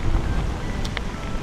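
Steady, loud wind buffeting the microphone on a coastal trail near the Tawharanui Peninsula, a continuous rough roar with no talk.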